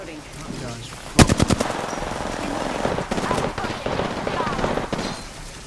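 Gunfire in Apex Legends: a sharp burst of rapid automatic shots opens the stretch, followed by sustained crackling fire and scattered distant reports beneath ongoing game chatter and a speaking voice.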